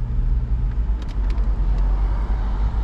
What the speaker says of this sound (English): that clean V6 sound.